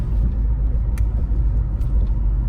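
A 1989 Saab 900 Turbo's engine drones and rumbles steadily close by under turbo boost, a low continuous motor sound with faint ticks over it, no voices.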